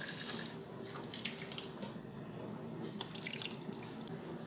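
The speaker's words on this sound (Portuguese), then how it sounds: "Vou colocar água para cobrir essas bananas." Water runs and splashes into a cooking pot to cover plantains, a steady faint trickling stream with small drips, close by and without speech.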